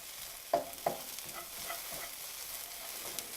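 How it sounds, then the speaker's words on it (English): Vegetables for a ham and cheese frittata, seasoned with oregano, are stirred in a frying pan. Two sharp scrapes of the utensil sound early on, then lighter stirring over a steady low sizzle, with no voices. "And I'm also going to give this a little bit more of a stir."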